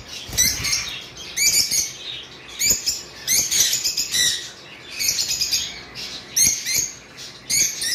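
Pet conures in a bird shop give repeated shrill calls and chirps in irregular bursts, close and lively, with occasional scratchy rustles between calls.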